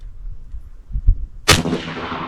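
A single loud, sharp report from a .45 caliber pump action airgun fires close by after a couple of seconds of low rumbling handling noise, then decays quickly.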